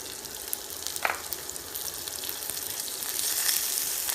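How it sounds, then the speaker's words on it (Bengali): Sliced onion and chopped garlic sizzling in a pan over medium heat, a steady close hiss with a brief stirring clink, rising slightly toward the end. "হালকা একটু ভেজে নিব, তবে বাদামি করার দরকার নেই।"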